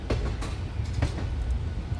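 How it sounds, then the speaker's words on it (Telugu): The Sevan Hills Express rolls along the rails out of Secunderabad, a faint low rumble with a few soft clicks of wheels over rail joints. "మన ట్రైన్ వచ్చేసి సికింద్రాబాద్ నుంచి బయలుదేరిపోయింది"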